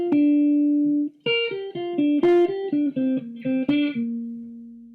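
A clean electric guitar plays a short pentatonic lick of plucked, sliding notes, ending on a sustained held tone, with no talking.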